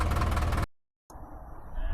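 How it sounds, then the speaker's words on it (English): Tractor engine idling while warming up outdoors on a smallholding, a steady low diesel rumble cut by a brief silent gap, then resuming and swelling slightly louder. "I've got the tractor started and running, idling, warming up."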